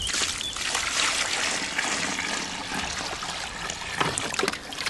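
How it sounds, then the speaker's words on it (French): Water trickles and splashes as it is poured into a hollow at a lime kiln workshop, a steady close pour with small bursts, no one talking. "Là, je vide de l'eau dans un creux"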